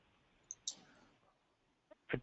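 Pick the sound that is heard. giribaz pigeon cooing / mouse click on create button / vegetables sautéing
mouse click on create button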